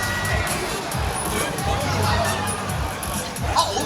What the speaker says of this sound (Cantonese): 請熱烈掌聲恭喜長歌啊